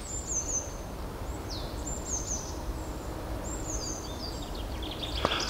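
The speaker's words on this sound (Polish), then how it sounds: "Ptaszki śpiewają, zobacz jak fajnie." Small birds sing in a winter forest on the way to an ice-fishing spot, thin high chirps and short trills coming in a few bursts at moderate distance over a steady outdoor hiss.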